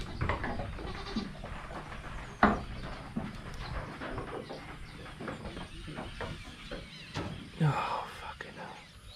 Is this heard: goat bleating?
yes